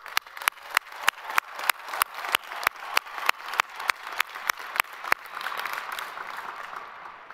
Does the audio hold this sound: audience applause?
yes